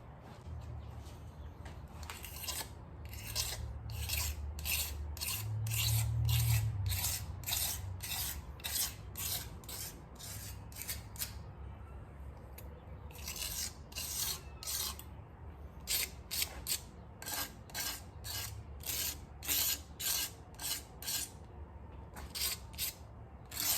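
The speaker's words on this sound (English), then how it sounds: "take our fresh razor blade and clean the deck" A fresh razor blade scraping the deck of an Audi 2.0 TFSI engine block during piston installation, making a rapid series of close, dry rasping strokes in bursts with short pauses between them.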